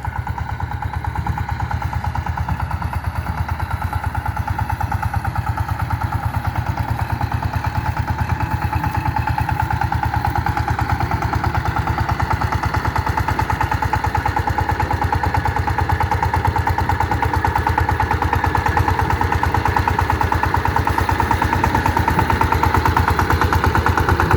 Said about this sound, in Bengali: ইঞ্জিনের সাউন্ডটা আসলে অসাধারণ